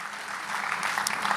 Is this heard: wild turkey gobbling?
no